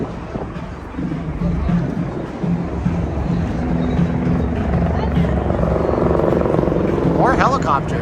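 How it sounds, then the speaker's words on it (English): A news helicopter flies over the Las Vegas Strip on New Year's Eve, its rotor a loud, steady thudding drone that grows slightly toward the end, with crowd noise and voices from the street beneath it. "Those look like they're news helicopters."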